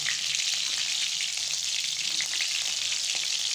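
Chili peppers sizzle steadily in hot oil in a kadai, the first step of a papaya curry, giving a constant, close hiss with light crackle throughout and no voices.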